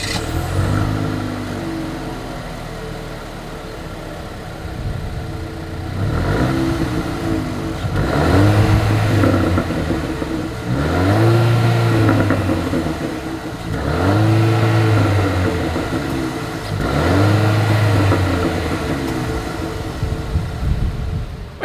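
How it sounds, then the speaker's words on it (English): A 2022 Jeep Renegade's exhaust rising and falling through four or five repeated revs from idle, each rev a loud swelling roar that drops back, heard close with no talking. "As always, here is that exhaust clip."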